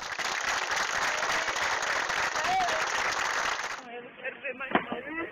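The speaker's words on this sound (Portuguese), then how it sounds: "O caixão coberto por flores passa e o adeus é dado com aplausos." Mourners applaud at a funeral as a flower-covered coffin passes by the grave, a dense sustained wash of clapping from a gathered crowd that cuts off abruptly, leaving quieter murmuring and scattered handling sounds.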